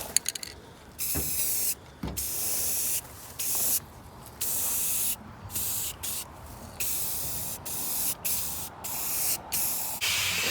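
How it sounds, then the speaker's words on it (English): Rust-Oleum spray paint hisses in repeated bursts onto a cleaned engine block plate in a shop, short sprays broken by brief pauses, close and fairly loud with no talking. "I'll give it a couple quick coats of Rust-Oleum"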